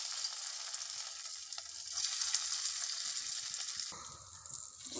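Bitter gourd fritters fry in hot oil with a steady, close sizzle throughout, shifting briefly near the end as pieces are moved.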